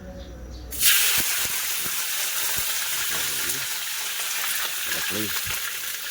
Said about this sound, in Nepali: अब मासुलाई फ्राई गर्छु